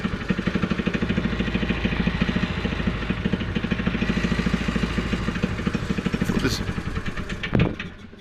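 A cheap go-kart's small engine runs at raised idle speed, a steady mid-pitched putter with light clatter, close by, ending in a brief sharp knock near the end.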